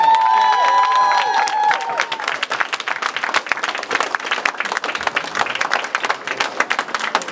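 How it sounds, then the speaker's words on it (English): A campaign event crowd claps for an opponent and his campaign in a Minnesota state representative race, a scattered, lively patter rising after a sustained tone fades, with some crowd noise. "Let's give him and his campaign a big round of applause."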